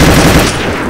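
Loud, dense machine-gun fire from a weapon in Garry's Mod, a rapid continuous burst filling the whole second before easing slightly toward the end, with no talk over it.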